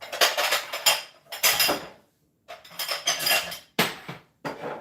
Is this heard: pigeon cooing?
no